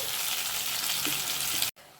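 Onions and tomatoes fry in a pan for kabuli chana kurma with potatoes, giving a steady, close hiss and sizzle that cuts off abruptly near the end.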